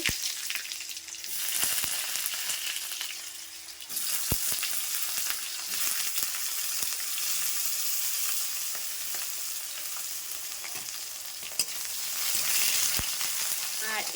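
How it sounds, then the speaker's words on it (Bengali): Eggplant frying in hot oil in a pan with cumin, dried red chillies and bay leaves, a loud steady sizzle that runs close and continuous, broken by a few sharp clicks of a utensil. "ফার্স্টে বেগুনটাই ভেজে নেব"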